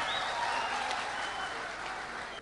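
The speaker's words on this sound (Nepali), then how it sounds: "उहाँलाई तालीले स्वागत गरौँ आज" Audience applause welcomes guest Durga Bikaju onto the stage at a 2011 Nepali Youth Club musical programme in Jeddah, Saudi Arabia: dense, steady clapping from many hands that holds evenly from start to end.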